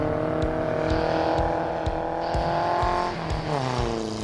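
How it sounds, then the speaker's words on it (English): Cars race on frozen Lac La Biche ice in Alberta, engines revving hard with rising and falling pitch, rhythmic thumps underneath and a shift downward near the end, loud and close. "But racing on ice is a whole new deal for us."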